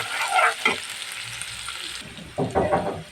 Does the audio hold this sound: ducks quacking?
no